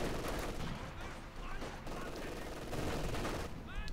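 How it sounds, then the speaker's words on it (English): In Company of Heroes 2, a heavy mortar keeps firing amid a dense, continuous battlefield din of gunfire and explosions, with rapid pops and distant booms layered throughout. "And the heavy mortar's back at it."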